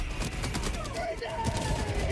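Artillery fire in a video game, likely Helldivers 2, with dense overlapping booms and rumbling blasts running continuously under a busy battle mix.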